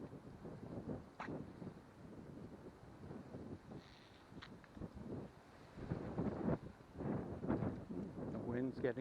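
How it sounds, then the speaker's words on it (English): Wind blows outdoors and buffets the camera microphone, giving a soft, uneven rumble that gusts stronger toward the end. "The wind's getting up a little bit right now."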